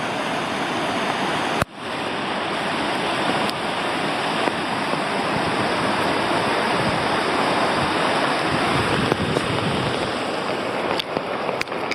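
A powerful river, the Taff in Wales, rushes in a steady, loud roar of churning water. The sound is close and continuous for twelve seconds, with one brief dip and no talk.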